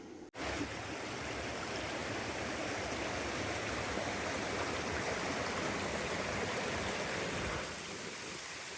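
Waterfalls in Swaledale in the Yorkshire Dales pour with a steady, dense broadband roar that stays constant and close throughout, with no voices.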